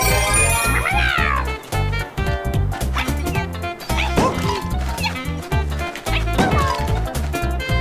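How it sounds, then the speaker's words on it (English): Mario in his cat suit in Super Mario 3D World gives about three short, rising-and-falling meows over busy, loud game music. "Sorry, I just heard Mario meow."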